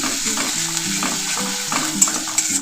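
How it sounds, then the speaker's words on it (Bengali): Onion paste frying in oil for an egg and poppy-seed dish, a steady close sizzle with soft stirring scrapes and a few light clinks, with a faint tonal background underneath. "তেলের মধ্যে দিয়ে দিলাম পেঁয়াজটা ভেজে নিচ্ছি"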